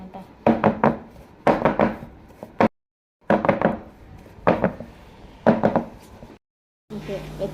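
A cake tin filled with butter cake batter is rapped against a kitchen counter in about six short bursts of dull knocking, each a quick cluster of taps, with brief silent gaps between them.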